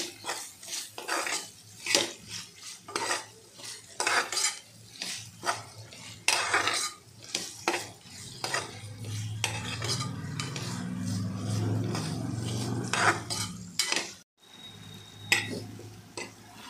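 A spoon scrapes and clanks against a pan as vegetables are stirred with green chutney of chili and coriander for achari vegetable pulao, repeated close metallic scraping strokes with a soft sizzle underneath, then a brief pause.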